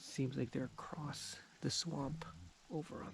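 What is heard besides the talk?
No distinct noise like a dog, phone or traffic.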